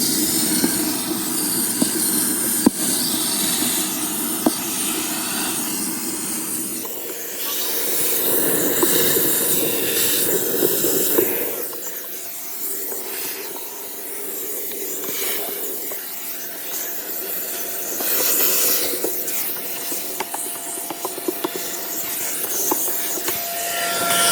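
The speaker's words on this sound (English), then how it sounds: "You just take one vacuum and vacuum it out" A steady, loud vacuum whine with broadband hiss runs throughout, shifting in tone as the nozzle moves, with occasional brief voices underneath.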